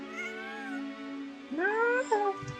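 A cat meows in Genshin Impact, a series of rising and falling game-voiced mews, close and clear with no talking.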